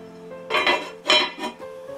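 A heavy lid is set onto a Staub enameled cast-iron pot holding soaked rice, giving a few close metallic clanks and rattles within about a second, with no talking.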